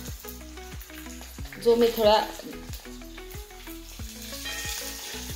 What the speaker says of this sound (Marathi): आता आपण ह्यामध्ये घालूया कांदा